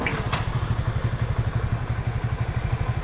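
A Delta 50cc moped engine runs at a steady idle close by, with a rapid, even low putter and a faint mechanical clatter throughout.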